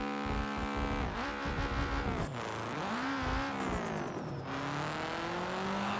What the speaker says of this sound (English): The engine is blowing up.